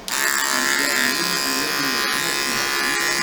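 Electric hair clippers fitted with a 1.5 guard buzz steadily through afro hair, a close, continuous motor hum that holds nearly level with one brief dip partway.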